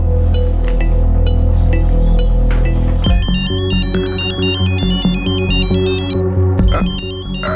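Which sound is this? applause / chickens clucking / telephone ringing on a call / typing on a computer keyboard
telephone ringing on a call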